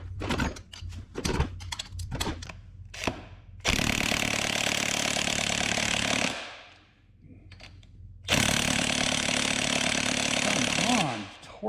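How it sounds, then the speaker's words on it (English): Power tool, most likely an impact wrench, removing the cylinder head bolts from a Honda FourTrax ATV engine on the bench. Short clattering bursts come first, then two long, loud, steady whirring runs, close up, with no talk. "Let's get his head bolts out of here."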